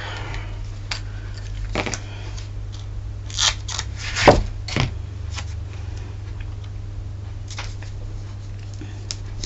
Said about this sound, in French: Mes ciseaux spéciaux.